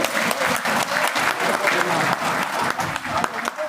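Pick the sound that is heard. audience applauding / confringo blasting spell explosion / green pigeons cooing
audience applauding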